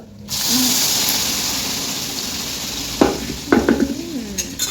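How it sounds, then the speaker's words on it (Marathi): Cashews and almonds sizzle in hot ghee in a pan with a steady hiss. Sharp scraping and clinking from a stirring spoon against the pan come in the second half. "तर तुपात टाकूया आपण हे काजू बदाम"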